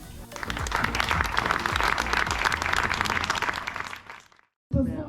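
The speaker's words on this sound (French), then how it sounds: "un tonnerre d'applaudissements aussi pour notre Alexandre" An audience at the inauguration of a reading cabin in Bachères, Tamines, bursts into a thunderous round of applause for the sound and lighting technician, steady close clapping that fades out before a brief cut and a voice resumes.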